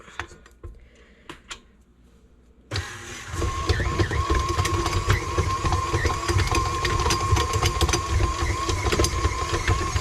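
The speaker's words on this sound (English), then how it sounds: "We're gonna let the mixer do all the kneading for us." A WICHEMI electric pasta maker's mixer kneads dough. After a few seconds of near quiet, its motor starts abruptly into a loud, steady whirring hum with rattling clicks, which continues to the end.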